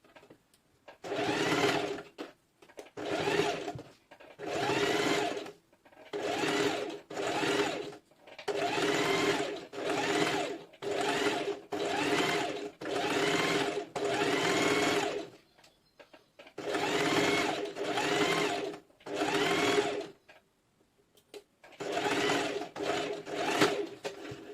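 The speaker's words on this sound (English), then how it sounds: "After pinning it, we're going to stitch straight downwards." A sewing machine stitches a straight seam on a one-shoulder dress in repeated bursts of rapid mechanical whirring separated by short pauses, close and steady with no talk.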